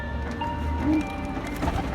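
Soft pigeon cooing in a low murmur over steady background hum, with a few faint tonal chirps scattered through.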